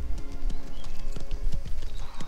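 Horse hooves clip-clop steadily in Mafia: The Old Country, a loud, continuous, close gait with a dense rhythmic beat and no talking.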